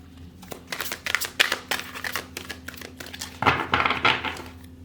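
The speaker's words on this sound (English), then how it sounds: "this deck is so hard to shuffle" A large deck of oversized tarot cards is shuffled by hand in quick riffling, flapping bursts, close and fairly quiet, with a louder flurry toward the end.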